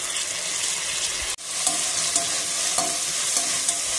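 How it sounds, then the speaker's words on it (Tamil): Onions sizzle steadily in hot oil as they fry golden in a pan for a prawn biryani, a loud, continuous hiss with a brief break and faint stirring scrapes. "வெங்காயம் நல்லா பொன்னிறமா வணங்கணும்."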